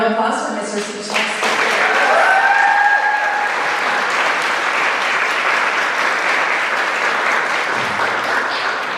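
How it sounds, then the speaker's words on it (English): Loud, sustained audience applause at a fifth grade graduation for a teacher, dense clapping rising quickly after a brief voice and holding steady, with a faint tone and some crowd noise underneath. "One more round of applause for Mr. Seachlog."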